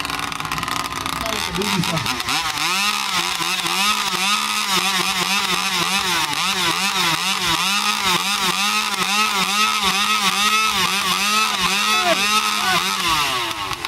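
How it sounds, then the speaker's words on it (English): Several chainsaw engines run together at a lumberjack festival, a steady droning idle broken by repeated revs that rise and fall, loud and close. "Let's get these saws warmed up and get them ready to go."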